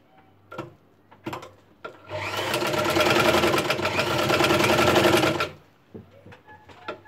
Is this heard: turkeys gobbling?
no